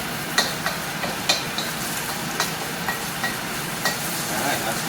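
Fried rice frying in a pan while being broken up, a steady sizzle with irregular light taps and scrapes of a utensil against the pan, fairly quiet and close.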